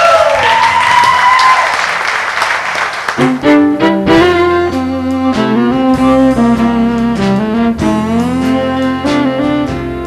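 An audience at a 1998 village jamboree gives a singer a round of applause, a dense burst of clapping for a few seconds before live music begins.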